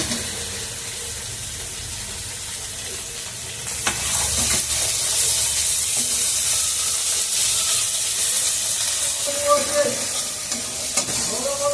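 Shrimp dropped into hot oil with bay leaves and coconut hiss and sizzle loudly, the frying surging after a few seconds and holding steady with occasional stirring clinks.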